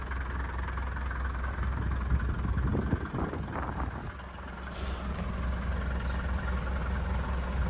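A diesel engine of a 1979 Mercedes camper, long stored in a garage, idles nearby in a low, steady rumble, briefly roughening and surging a few seconds in before settling back as the throttle is eased down.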